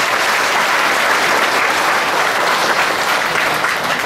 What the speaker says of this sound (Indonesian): Tepuk tangan dulu, 2000 orang.